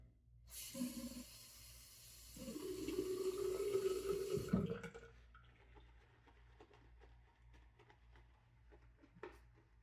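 Tap water runs steadily for a couple of seconds while someone shaves, followed by quieter sink splashes and small clicks. The flow is close and fairly loud, with no talking.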